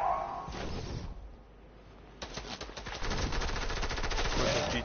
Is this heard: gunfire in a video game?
yes